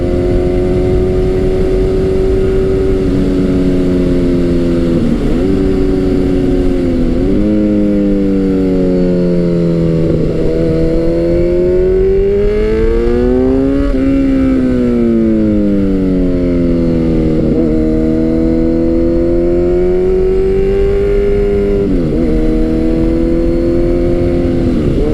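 A Kawasaki Z900 motorcycle engine revs loud and close, its pitch climbing and falling through several long throttle sweeps with brief dips between, sustained for about 25 seconds with no talking.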